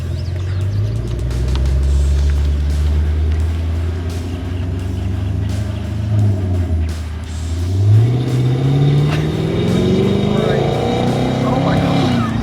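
Camaro SS with a 455-horsepower engine driving and accelerating, a loud steady low engine rumble from inside the car that swells and rises in pitch as it speeds up, with people talking over it.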